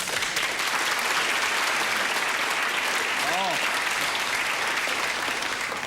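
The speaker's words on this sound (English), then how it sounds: "That was such wondrous applause" Steady, dense applause from a studio audience at a televised magic show, loud and sustained throughout with no break.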